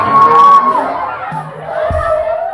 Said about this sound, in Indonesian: Ini kenapa yang teriak lebih kenceng laki-lakinya daripada perempuannya?